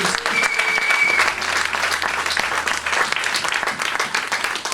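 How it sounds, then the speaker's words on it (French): A church congregation bursts into sustained applause and cheering in praise of the Lord, a dense, loud wash of clapping filling the room for several seconds. "Est-ce que tu peux acclamer le Seigneur?"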